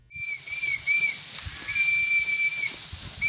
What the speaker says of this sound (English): The police even attracted ridicule from Kenyans for using whistles, shooting and throwing tear gas at the locusts